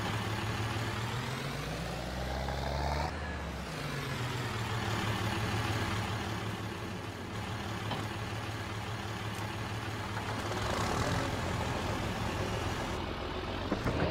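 A tractor engine in Farming Simulator 22 runs close and steady, a low droning rumble that rises and falls slightly as it revs, continuing throughout with no talk.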